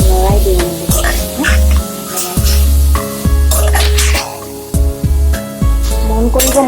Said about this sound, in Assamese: মাংসখিনি অলপ লৰাই দিম।